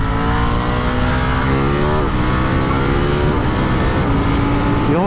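Motorcycle on Mitas Sport Force tyres accelerating hard in third gear, its engine note climbing steadily in pitch, loud and close throughout with a brief dip around the two-second mark.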